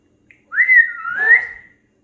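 A pet bird gives a single clear whistle, a rising then wavering note lasting about a second, close and alone in a quiet room.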